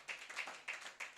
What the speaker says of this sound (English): you people should clap for her